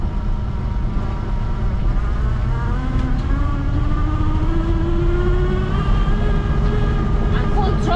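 A Rover P4 engine held at full throttle while driving over a bumpy road, a steady loud drone with a slowly rising engine note, continuous and close throughout.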